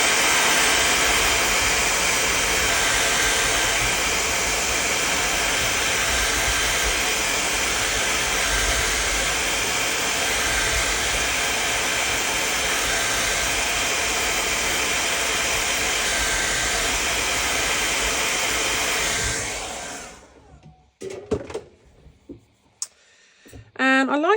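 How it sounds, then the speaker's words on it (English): A hair dryer roars steadily at close range for about twenty seconds, drying wet paint in a sketchbook, then shuts off, leaving quiet with a few small handling sounds. "I'm just gonna use my hairdryer to dry it off."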